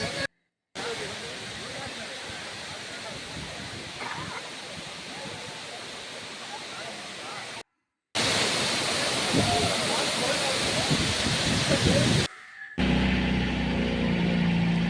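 Jhari waterfall in Chikmagalur roars as a dense, steady rush of falling water, cut off abruptly by a few brief breaks between sections.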